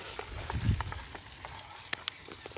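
Partridges frying in butter in a pan give a quiet, low sizzle with a few soft bubbling pops and faint scrapes, close and steady with no talking.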